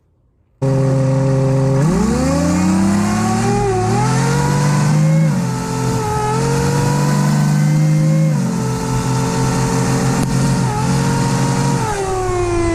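A twincharged diesel engine with supercharger and turbo starts and runs close by, holding a loud steady tone with several rises and falls in pitch as it revs, and no talk.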